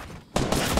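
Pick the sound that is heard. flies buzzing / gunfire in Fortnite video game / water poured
gunfire in Fortnite video game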